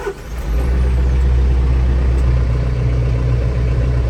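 A TYM T574 tractor's heavy diesel engine turns over and settles into a loud, steady low rumble, idling close by with a constant drone, heard from inside the cab.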